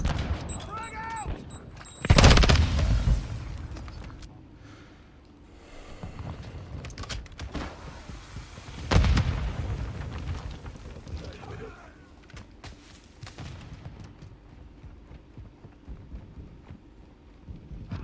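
A frag grenade in Call of Duty Modern Warfare II explodes in two heavy booms several seconds apart, each with a rumbling tail, amid gunfire and battlefield noise, with radio-style voices heard in between.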